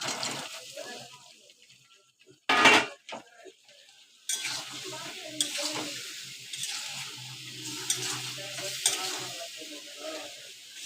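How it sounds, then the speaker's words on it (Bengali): A squash and soybean curry is stirred and sautéed in a pan with a soft, intermittent sizzle. A spoon scrapes and knocks against the pan now and then, and one loud clatter comes early. "পেঁপে আলু, পেঁপে না, ওটা কুয়াশ আর সয়াবিনের তরকারিটা কষা কষা করবো"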